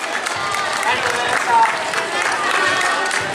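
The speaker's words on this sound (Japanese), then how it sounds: "もう一度大きな拍手をお願いします。" Audience applause at the YOSAKOI Ibaraki dance festival, a broad, steady wash of many hands clapping from a crowd, with busy background voices mixed through it.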